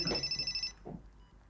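A telephone bell rings once in a short, rapid trilling burst lasting under a second, then stops, followed by a brief low murmur; no clear talk over the ring.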